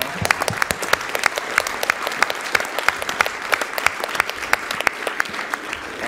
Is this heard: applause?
yes